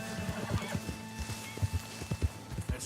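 A video game horse whinnies and its hooves clip-clop in short uneven bursts, fairly close and clear, with no talk over it.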